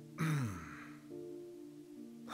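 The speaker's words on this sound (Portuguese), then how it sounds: "ele não tossiu com força" A single light throat clearing from a man, soft and brief, followed by quiet background hum.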